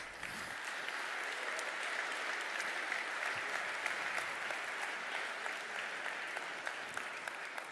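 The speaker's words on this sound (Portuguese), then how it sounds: "E eu acho que isso merece uma salva de palmas." Audience applause at a cybersecurity conference, a steady wash of many hands clapping, moderately loud and even throughout with no talking over it.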